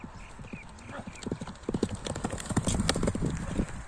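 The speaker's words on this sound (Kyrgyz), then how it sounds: "Туғандар, аттың жүгіргенін көрдіңдер өзіңдер" Horse galloping on ground, rapid rhythmic hoofbeats building in intensity with a neigh mixed in, close and fairly loud, faint voices in the background.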